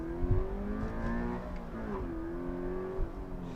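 A 2020 Toyota 86 rear-wheel-drive sports car revs up through first into second gear, its engine note climbing, dipping briefly at the shift, then rising again, heard steadily and fairly close.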